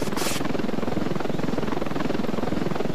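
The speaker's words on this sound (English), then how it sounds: "this helicopter. It's fast, it's agile" Helicopter in the Ravenfield video game, a fast, agile chopper whose rotor chops steadily and loudly with no talk over it.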